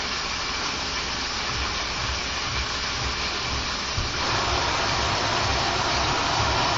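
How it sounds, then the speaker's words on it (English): Spearmint leaves rinsed under a running stream of cold tap water: a steady, even hiss of flowing water throughout, fairly close and continuous, with no talking. "And then you rinse the leaves in cold water."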